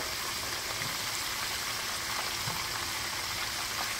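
Frozen fish balls fry in hot oil in a pot, giving a loud, continuous bubbling sizzle that holds steady from start to end with no voices.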